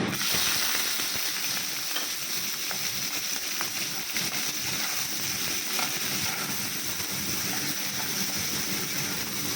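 Shrimp frying in a very hot kadai, a loud, steady hiss and sizzle that holds at an even level from start to finish, with no talking over it.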